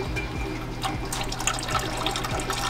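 Hot Motul gear oil drains from a Subaru transmission with a steady liquid pour and splatter, a continuous gurgling stream at close range with no talk.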